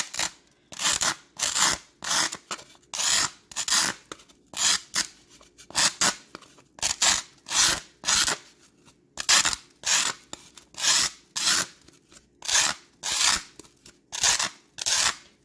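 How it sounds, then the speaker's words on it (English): A metal file rasps back and forth along the edge of a wreath center in a garage, giving steady, loud, close strokes that repeat about every half second for the whole stretch with no talking. "So we're going to use this metal file and we're going to round the edge of this center."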